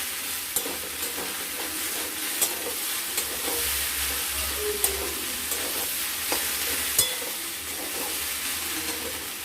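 Onions frying in a pan while a fish curry is made, with a steady sizzle and hiss and the occasional clink of a stirring spoon. No one speaks.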